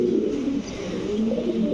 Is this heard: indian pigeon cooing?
yes